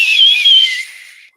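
A single loud, shrill whistle blast held for about a second, steady and piercing before tapering off, close to the microphone, with no voices.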